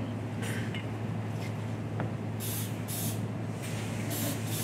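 A cooking spray can releases several short hissing bursts, some close together and others spaced apart, over a steady background hum in a classroom kitchen.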